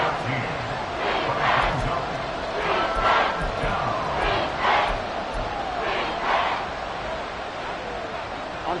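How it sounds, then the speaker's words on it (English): Large football stadium crowd during a Bengals versus Texans NFL game swells into loud roaring and cheering, rising in waves as the noise builds ahead of a third-down play, with a broadcast commentator's voice faintly over the din. "This crowd turning up the decibel level."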